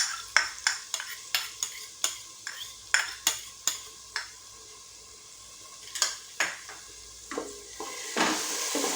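Ginger garlic paste frying in a pan for a chicken and soybean stew, stirred with quick, rhythmic scrapes and clinks of a utensil over a soft, quiet sizzle, with a brief pause in the middle.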